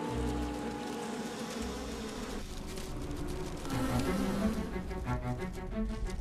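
A honeybee colony swarming around its hive, a dense, continuous buzz of many bees at fairly close range, steady throughout with shifting drones as individual bees pass near.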